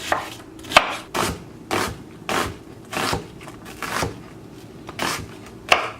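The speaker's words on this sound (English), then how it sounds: "We will start with the onions. You can cut it the way you like." Onions being cut with a knife on a board for beef bourguignon, about a dozen distinct chops in an uneven rhythm, close and fairly crisp, with no talking.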